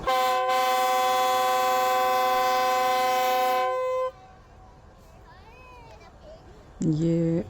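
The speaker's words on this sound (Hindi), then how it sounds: "ये इसका ट्रेन का जो हॉर्न है वो काफ़ी लाउड था" A loud, sustained train horn blares steadily for about four seconds, then cuts off, leaving quieter background noise and a brief tonal sound near the end.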